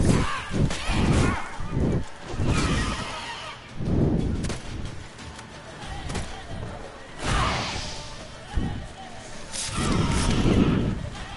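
Harpy monsters in The Witcher 3: Wild Hunt screech in a series of harsh, bird-like cries mixed with whooshing wingbeats and thumping game combat noise, rising and falling in repeated bursts at moderate volume.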